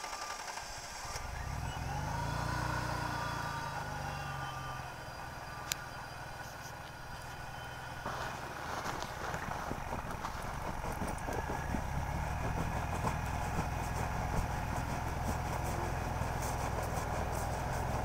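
A supercharged Jeep Rubicon Unlimited engine cranks, catches and settles into a steady idle, then its revs rise and hold with a rough, busy roar in a snowy outdoor setting.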